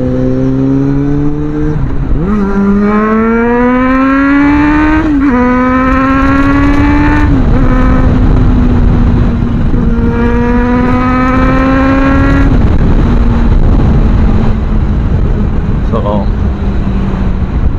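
Suzuki Bandit 650 motorcycle, a 650cc bike, accelerating hard through several gears, engine note rising and dropping at each shift, loud and close over steady wind rush.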